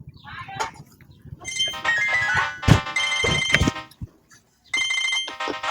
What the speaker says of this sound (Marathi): पोरीचा फोन आला